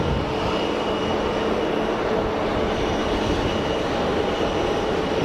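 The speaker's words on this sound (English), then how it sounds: "It's an easyJet A320 in from Bilbao." An easyJet Airbus A320 jet airliner arriving in from Bilbao at Geneva Airport makes a steady, loud, broadband roar that holds constant for several seconds with no talk.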